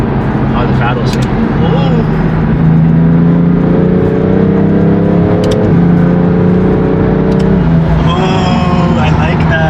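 A BMW F80 M3 engine revs under throttle while parked in a garage, a loud, close, rising and falling growl with people talking over it.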